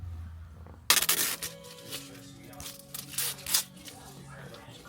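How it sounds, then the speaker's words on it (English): Tape is peeled off a Chrysler 300 Redeye car part in a burst of close, sharp tearing and crackling, with someone talking over it. "Get this tape removed."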